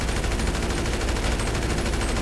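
Rapid sustained gunfire in GTA 5, a dense, loud machine-gun burst rattling without pause for a couple of seconds, close and unbroken with no voices.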